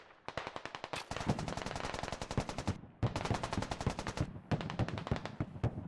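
Rapid machine-gun fire rattles in long dense bursts in a 100-player US Marine Corps war video game, loud and close with brief gaps between volleys and no talk.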